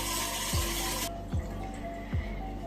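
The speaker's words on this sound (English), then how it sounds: "Just gonna wash my hands." Hands being washed under a running kitchen tap while brownies are made, a steady splashing stream that cuts off sharply partway through, followed by a few soft thumps and light drips nearby.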